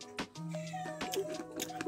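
A cat meows loudly and close by in a kitchen while cookies are being served, a drawn-out wavering cry with a rising and falling pitch that carries through the whole moment over soft room noise.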